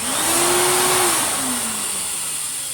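A refurbished Goblin Aquavac Bulldog vacuum cleaner runs on its original Aquavac motor, a loud, close, steady whir with a high whine whose pitch rises and then sags slightly.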